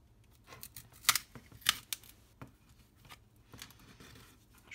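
A razor blade pries under the touchscreen glass of an Asus ZenPad 3S Z5 tablet, making close, sharp clicks and scraping ticks in irregular bursts, two louder snaps standing out.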